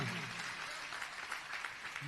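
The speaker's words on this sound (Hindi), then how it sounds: "जोरदार तालियां बजाइएगा" Audience applause at a Jain religious discourse, a steady dense wash of clapping filling the whole stretch, with brief voice fragments at the start and end.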